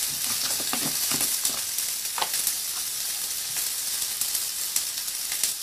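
Ingredients for a spicy Tamil-style chutney sautéing in a pan give a steady, close sizzle and crackle with occasional sharper pops, continuous throughout and with no voices.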